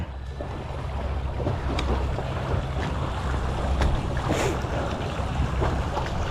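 Steady, blustery wind blows across the mic at a seaside fishing pier at Ao Khung Kraben, Chanthaburi, a constant broadband rush with a low rumble of water and no talking.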